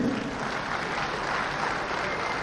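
An audience at a Vision 2050 government summit in Enugu applauds, a dense, steady wash of many clapping hands filling the hall without pause.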